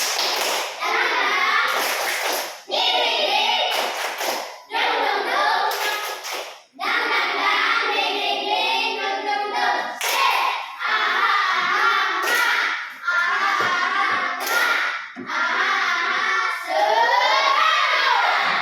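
Schoolchildren in a classroom do the 'tepuk danding' clapping chant, repeated bursts of sharp group claps in patterned rhythm mixed with lively children's voices chanting and shouting throughout.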